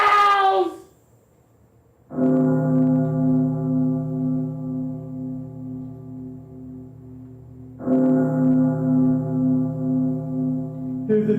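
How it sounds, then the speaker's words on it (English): Two deep, resonant iron bell strikes, each ringing on with a long, humming sustain before the next toll. No voices. "Hear the tolling of the bells,"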